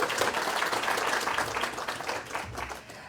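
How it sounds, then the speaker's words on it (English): Audience applause in a room at a women's enterprise event, a dense burst of many hands clapping close and loud, tapering off near the end. "So big round of applause for the amazing Lacey."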